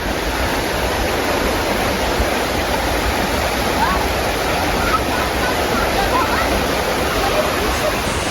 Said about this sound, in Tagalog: Malakas ang sapa ngayon.